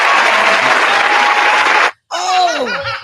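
Studio audience applause on a talk show, a loud, continuous burst of clapping that cuts off sharply, followed by a brief pause and people talking.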